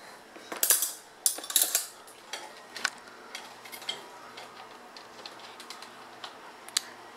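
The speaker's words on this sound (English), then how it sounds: "Spoon and a knife." A spoon and a knife clink and rattle against each other as they are picked up and handled, with a few sharp metallic taps up close early on, then lighter scattered clicks.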